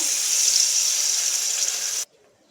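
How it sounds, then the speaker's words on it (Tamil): A tumbler of water is poured into a pan of sautéed bottle gourd and tomato, a steady close splashing gush lasting about two seconds that stops abruptly, with no voices. "ஒரு டம்ளர் தண்ணி ஆட் பண்ணிக்கோங்க"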